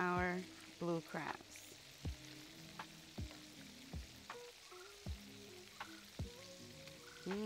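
Octopus, shrimp and blue crabs fry in a pot of oil outdoors, giving a steady low sizzle broken by repeated soft knocks and clatters as pieces are turned, fairly quiet throughout.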